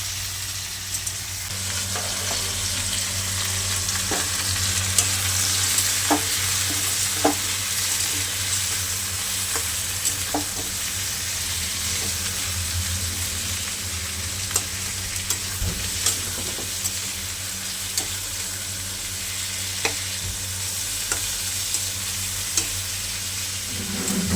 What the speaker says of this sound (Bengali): চিকেনগুলো একটু ভাজা ভাজা হবে